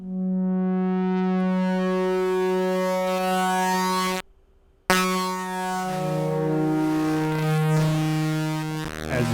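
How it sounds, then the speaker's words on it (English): A Korg Minilogue XD analog synth run through a bit-crushing effect, with sustained buzzy tones that grow harsher and more digitally degraded toward the end, broken by a short silent gap, loud and alone. "towards the end of that, we get to a 1-bit style crushing"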